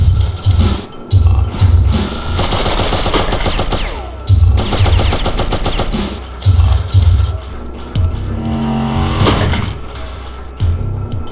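Gunfire in Oddworld: Abe's Oddysee, loud repeated bursts of rapid machine-gun shots separated by short gaps, with game ambience in between.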